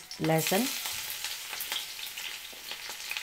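Green chili hitting hot oil in a pan, a brief loud crackle at the start that settles into a steady, even sizzle, with no voices.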